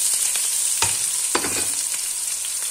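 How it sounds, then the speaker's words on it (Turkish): Onions fry in hot oil in a pan for a Turkish potato and minced-meat dish, giving a constant close sizzle broken by a couple of stirring scrapes. "gördüğünüz gibi soğanlarımız kavruluyor"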